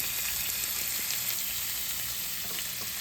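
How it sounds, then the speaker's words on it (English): Shrimp sizzling steadily in a hot pan at low heat, a continuous close frying crackle with faint scattered pops and no talking. "Make sure you're cooking your shrimp at a low temp."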